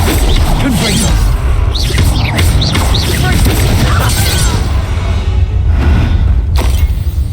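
Confringo fire spell explosions from the Hogwarts Legacy video game: loud booming blasts and crashing impacts over a dense, constant wash of combat noise and music, with a voice heard among the chaos.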